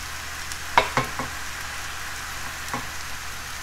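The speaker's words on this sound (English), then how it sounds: "You do the stir fry, and once you finish stir fry, put the rice in." Vegetables stir-frying in a pan for fried rice: a steady hissing sizzle with a few sharp utensil scrapes or taps early on and one more near the end, moderately close, with no talking.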